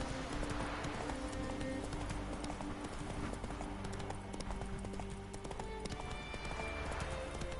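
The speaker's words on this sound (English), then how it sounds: "Whoa, this way, Roach. Nearly took me the wrong way there, buddy" Horse hooves clip-clopping at a steady rhythmic pace in The Witcher video game, continuous and fairly close under game ambience, with a faint whinny.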